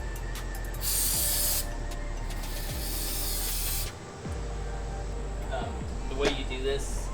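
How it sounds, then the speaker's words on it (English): Brake cleaner is sprayed onto a Subaru Outback's brake parts in a few short hissing bursts over a steady background hum, with someone talking quietly in between. "So get some brake cleaner. I'm just gonna kind of clean"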